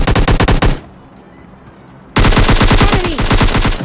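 Loud, rapid automatic bursts from a G36C rifle in the mobile shooter PUBG Lite: a fast burst, a short quiet gap, then a longer sustained stream of close gunfire.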